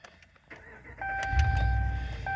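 A 2020 RAM 1500 Crew Cab 4x4 pickup with about 18,000 miles cranks over with a brief whine, then its engine catches and settles into a loud, steady low rumble.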